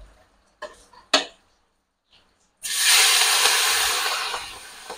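Prawns dropped into hot oil in a pan set off a sudden loud hissing sizzle that fills the second half, after a few sharp clinks and taps of handling and quiet pauses.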